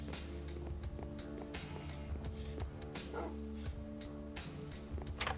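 Short yips and barks from a dog in the Minecraft video game, several brief calls scattered over a steady game background tone, moderately close.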